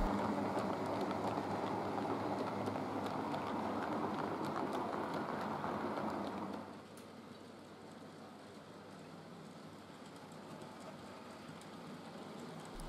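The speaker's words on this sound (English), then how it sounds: "We see the Cliff Uddingston cement block train once more." Model railway cement block train from the Cliff Uddingston layout rumbling steadily along the track as a continuous broadband wash, which drops sharply to a quieter hiss about halfway through as it moves away.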